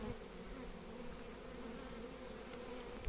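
Honeybees, some carrying pollen, swarm around their hive in a dense, steady buzzing drone that stays even throughout, close and unbroken, with no voices.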